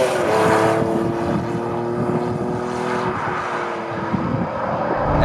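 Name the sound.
Honda NSX 3.0 litre V6 VTEC engine driving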